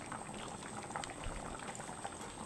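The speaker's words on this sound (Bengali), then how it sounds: "ঝোলটা ফুটে গেছে" A pot of masoor dal and gathi kochu (taro) curry broth bubbles at a steady, continuous boil, a quiet, close and even gurgle with no other sounds.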